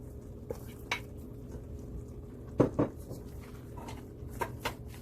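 Curry potato and Libby's corned beef being stirred together in a pot, Trinidad style: a few scattered close scrapes and soft clinks of a spoon against the pot, with a brief cluster of two sharper knocks midway, over a quiet room hum without talk.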